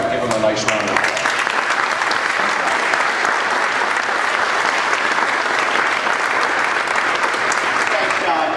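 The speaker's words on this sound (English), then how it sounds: "Senator Mark Wagoner, give him a nice round of applause." An audience applauds for Senator Mark Wagoner at a campaign event, a loud burst of many hands clapping that starts sharply and holds steady for several seconds, with a voice briefly audible at the start.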